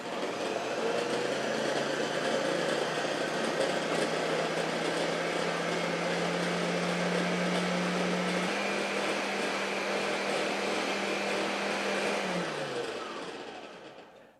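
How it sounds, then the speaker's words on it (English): A blender whirring as it mixes carp pack bait: a loud, steady motor drone with a hum that shifts pitch partway through, then winds down at the end, with no talk over it. "let's put the lid on this guy and blend it"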